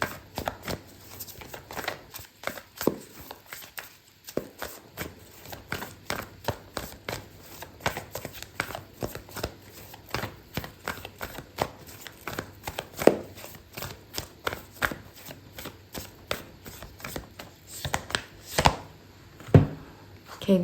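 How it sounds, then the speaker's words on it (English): A deck of oracle cards is shuffled by hand for a tarot reading, producing repeated close, soft riffling and slapping flicks in an irregular rhythm that continues throughout, with no talking. "Okay, so I'm going to pull out an oracle card for you"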